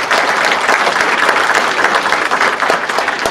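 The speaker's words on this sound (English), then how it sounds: "give a round of applause on that." Loud, sustained audience applause fills a convention panel room on a role-playing game campaign panel at Salt Lake Comic Con 2014, steady dense clapping throughout without a break.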